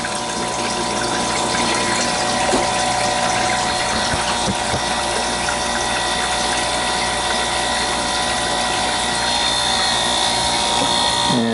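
A new Manitowoc commercial ice maker starting an ice-making cycle, its water pump circulating water over the evaporator plate with a loud, continuous mechanical hum and whir, close up and steady throughout.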